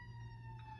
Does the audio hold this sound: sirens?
yes